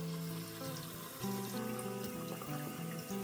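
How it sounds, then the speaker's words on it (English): Tap water runs steadily into a kitchen sink or pot while a chili bean mix is being prepared, a continuous close gurgling stream with a shifting pitch as the vessel fills. "Bit of water."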